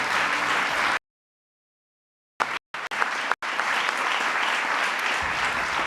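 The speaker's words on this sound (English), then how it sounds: "Please join me in a round of applause for all of our awardees." A crowd at an International Women of Courage award ceremony applauds steadily, with the clapping cut off by a sudden silence and a few brief bursts before the dense applause resumes.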